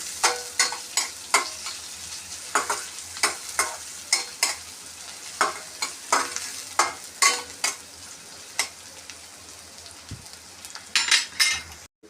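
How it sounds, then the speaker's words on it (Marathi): A spoon stirs onions sautéing in a pan on low heat for rava upma, scraping in a steady rhythm of sharp strokes over a soft continuous sizzle. "छानपैकी असं मिक्स करून घेणार आहे आणि स्लो गॅसवर यायला छानपैकी मस्त असं परतून घेणार आहे"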